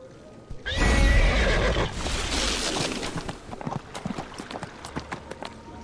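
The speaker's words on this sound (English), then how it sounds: "Look at that fancy horse." A horse in a Dungeons & Dragons video game gives a loud, drawn-out neigh, followed by a run of clip-clopping hooves that fades into lighter steps.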